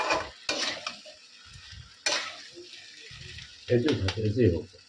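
Mutton being sautéed and stirred in a pan, with scraping stir strokes and a sizzle that comes and goes, louder toward the end, while people talk nearby.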